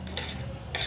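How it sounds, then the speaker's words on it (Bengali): A spoon scrapes and clinks through fried rice in a pan on a gas stove, two quick metallic stirring strokes up close with a soft background hiss. "এবার আমি নাড়াচাড়া করে নিচ্ছি।"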